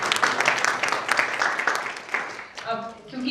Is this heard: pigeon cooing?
no